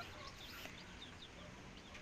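Hens of mixed breeds such as Rhode Island and Dekalb, brooding on eggs in a covered backyard nest, give soft intermittent clucks. The clucks are faint and sit under steady background noise, with no talking.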